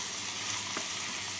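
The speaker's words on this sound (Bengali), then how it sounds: "মটরশুঁটিগুলোকে দিয়ে নাড়াচাড়া করে নিলাম।" Peas fry with vegetables in a pan for a daliya polao, giving a steady, close hiss of sizzling oil with a faint scrape of stirring.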